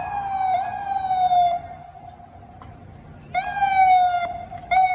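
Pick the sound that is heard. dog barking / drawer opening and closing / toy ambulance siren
toy ambulance siren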